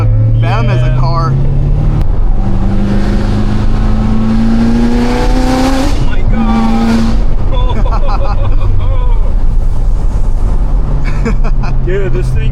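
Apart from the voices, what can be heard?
800HP C7 Corvette Z06 engine accelerating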